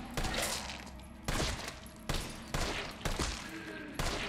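Gunfire in the Resident Evil 3 video game: a run of loud, sharp shots in a dense burst, then four more evenly spaced blasts, each with a short ringing tail, close and prominent with no talk.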